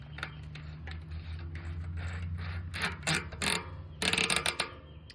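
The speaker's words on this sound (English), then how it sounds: "now we're gonna put on the lock ring, which is gonna hold the cassette in place" A tool tightening a bicycle cassette lock ring on a 1x12 Eagle drivetrain, with scattered metallic ratcheting clicks that start sparse and quicken into dense bursts near the end, heard close and alone.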